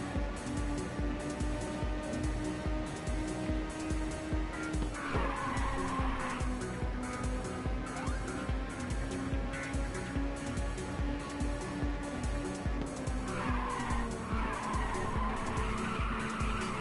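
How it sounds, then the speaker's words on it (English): Drifting car in Ridge Racer 2 with a sustained engine drone and two long squealing tire skids, loud and continuous, with no talking. "Good drift."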